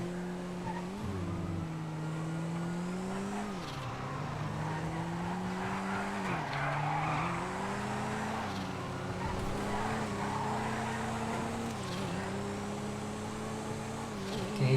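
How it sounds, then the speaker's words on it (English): A car drifts in GTA FiveM with revving engine tones rising and falling through repeated slides, tires squealing over each drift, steady and continuous without talk. "Another drift."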